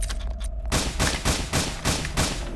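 Rapid gunfire from a new gun in a horror video game, a steady burst of about seven loud, evenly spaced shots following a brief stretch of quieter game sound.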